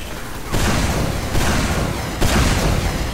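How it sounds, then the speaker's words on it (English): Gunfire in Team Fortress 2, three loud abrupt bursts of shots spaced roughly a second apart over a rumbling game background. "Okay, I'm shooting."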